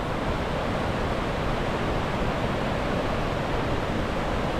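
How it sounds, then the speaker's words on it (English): The 120-foot Wahclella Falls in the Columbia River Gorge pours a heavy volume of water, producing a loud, steady, broadband roar that fills the air without pause, no voices over it. "a ton of water coming off"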